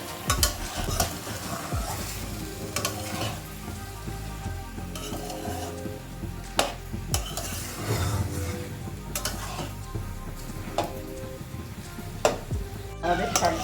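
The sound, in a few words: stirring water spinach frying in a pan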